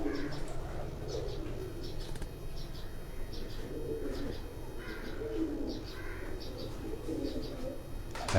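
Pigeons coo in repeated soft, throaty phrases from a rooftop loft, with occasional chirps and a brief flutter of wings against a low, steady outdoor background; a faint voice is present.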